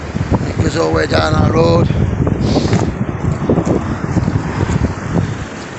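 Strong storm wind buffets the microphone outdoors along a road with damaged fencing and branches, a steady loud roar under someone talking throughout.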